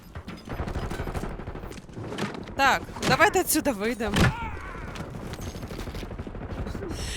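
Gunfire in Call of Duty: Warzone, a burst of rapid shots crackling through the middle of the stretch, with someone talking over the game noise before and after.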